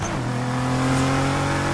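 Street-racing cars' engines revving loudly and steadily, a sustained mechanical whine rising slightly in pitch.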